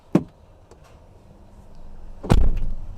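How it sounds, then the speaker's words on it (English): Two sharp thuds close by, the second the heavy door of a Tesla Model X shutting firmly by itself, followed by a low muffled rumble. "Tesla slammed the door on me."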